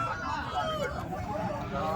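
Rooster at the Nallapadu chicken market, a short, hoarse crowing call rising out of busy market noise with voices talking underneath.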